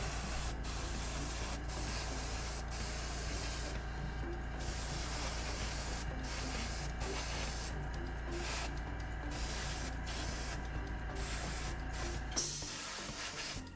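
An aerosol can sprays a second coat of paint onto tabletop miniatures, a close, loud, continuous hiss broken by several short pauses between bursts, with no talk.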